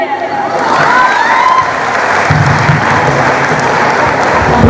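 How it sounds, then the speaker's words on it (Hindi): Loud crowd applause mixed with cheers and children's shouts at a school farewell party, rising after a quieter start and holding steady, with voices and a tone sweep audible over the clapping. "और थमनी नहीं चाहिए तालियों की गड़गड़ाहट, क्योंकि हमजा और सोनम की एंट्री हो चुकी है।"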